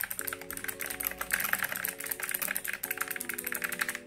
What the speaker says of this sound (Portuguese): Tô gostando pra caramba desse teclado. É o G512. Ele é mecânico.